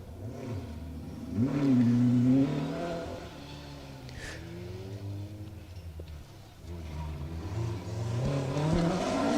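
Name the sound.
D2 category Ford Escort rally car on a stage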